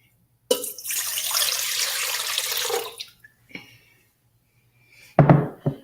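Hot water gushes from a kitchen tap for a couple of seconds in a loud, close, steady splashing stream, then shuts off, followed by a few faint clinks and a brief knock.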